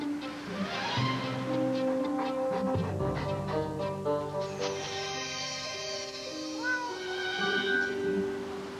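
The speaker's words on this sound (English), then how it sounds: "Meow." A cat meows repeatedly in a cat litter commercial, clear close calls with rising and falling pitch, some drawn out, over light background music.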